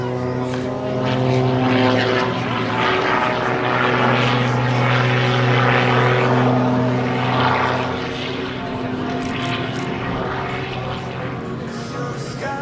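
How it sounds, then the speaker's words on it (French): An Extra 330 SC aerobatic propeller plane drones steadily overhead at the Biscarrosse air show, its engine pitch rising and falling as it maneuvers, loud and continuous throughout. "un avion qui est extrêmement manœuvrant"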